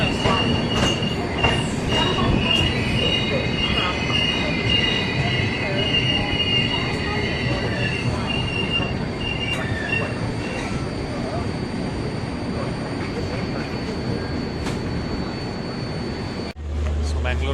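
Sampark Kranti Express running from Trivandrum toward Mumbai, heard from inside a first class coach: steady loud rumble of wheels on rails with metallic squealing and faint clatter throughout, a few voices murmuring underneath.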